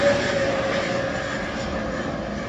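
A fixed-wing airliner arriving from New Zealand roars steadily overhead near the runway, a loud continuous engine drone with no talk over it.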